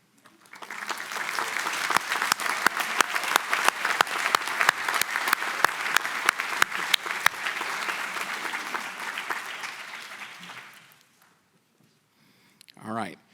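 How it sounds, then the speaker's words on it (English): Graduation audience at a commencement ceremony applauds friends and family, a dense, steady roar of clapping lasting about ten seconds before fading out, followed by a brief spoken voice. "let's give them an applause"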